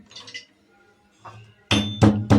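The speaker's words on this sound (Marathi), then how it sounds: "तेल तापेपर्यंत आता लसूण कुटून घेऊया" Garlic cloves pounded with a pestle while oil heats nearby, a few soft taps early, then three loud sharp clinking strikes close by in a steady rhythm.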